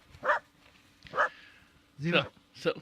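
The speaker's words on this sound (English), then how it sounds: "look at a dopey dog running around outside" A dog barks outdoors in four separate spaced yips and woofs, fairly close and moderately loud, with a faint steady hum underneath.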